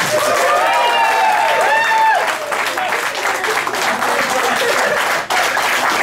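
Volunteers and supporters at an Alberta Party political gathering break into loud, sustained applause and cheering, with voices calling out across the crowd as the clapping carries on for several seconds.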